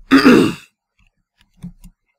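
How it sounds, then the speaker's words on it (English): A single short, loud throat clearing close to the microphone, followed after a pause by two faint, brief throat noises. "I have to clear my throat a little bit"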